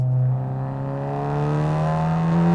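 A big-turbo Fiat 500 hot hatch pulls hard with a steady, rising engine drone, loud and close, its pitch climbing smoothly as it accelerates with no voices.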